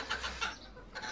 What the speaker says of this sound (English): You can also tell it's Saturday morning from the noise in the garden of all the cockerels.